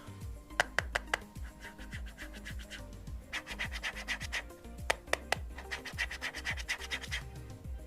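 Fingers rubbing and scratching the coated surface of Sony headphones, a quiet close-up series of rasping strokes and short scratchy bursts, with no speech.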